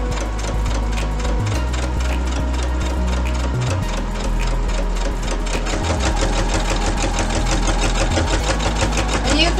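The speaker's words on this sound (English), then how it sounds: "I always backstitch just to make sure that, you know, there is a sturdy stitch at the end." A sewing machine stitching rabbit-fur mittens, running loud and close in steady mechanical bursts with brief pauses and a reverse backstitch at the end.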